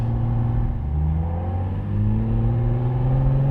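A 1973 Ferrari 365 GTB/4 Daytona, a front-engined supercar, cruises along a farm road, its engine a steady, close, loud drone that swells gently as it pulls. No voices are heard.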